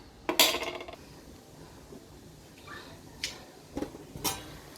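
A metal pot lid clanks onto a pot of simmering vegetables and egg with one bright, ringing clatter, followed by a few lighter clinks and taps of cookware at close range, with no talking.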